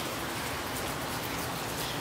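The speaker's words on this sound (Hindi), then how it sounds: "बारिश हो रही है, देखो" Steady rain falling outdoors during a cold, windy storm, a dense even hiss of drops on surfaces filling the whole short stretch with no voices.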